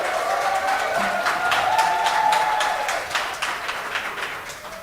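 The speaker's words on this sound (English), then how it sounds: "I can hear some ululations there" An audience at a panel discussion launch applauds, a sustained patter of many clapping hands with a high ululating trill rising through it before the clapping gradually fades.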